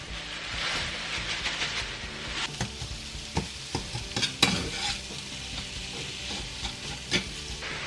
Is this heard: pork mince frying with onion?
yes